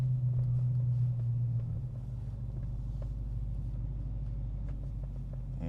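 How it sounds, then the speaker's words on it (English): A Dodge Hellcat rolling into a gas station: a loud low engine drone that drops to a steady idling rumble after a couple of seconds, with no talk. "So pulling up at the gas station right now"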